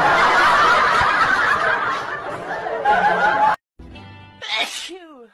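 A baby sneezes sharply in a loud burst, followed by a short silence and then a giggle with small chuckling sounds.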